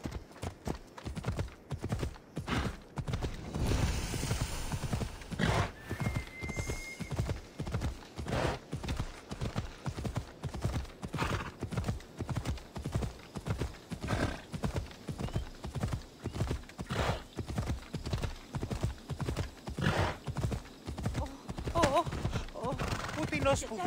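Horse hooves pound in a steady galloping rhythm in Assassin's Creed Odyssey, with regular thudding clip-clops close up, a whinny early on, and faint game voices underneath.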